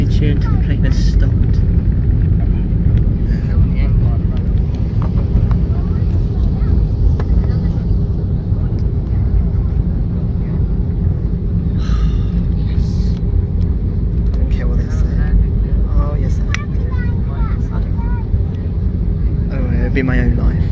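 An airplane taxis after landing in Basel, heard from inside the cabin as a steady, loud low rumble of engines and rolling that runs throughout, with passengers talking over it.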